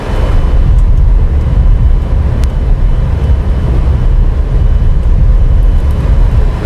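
Airliner reverse thrust on landing in Microsoft Flight Simulator X gives a loud, continuous low roar that holds steady and dense throughout.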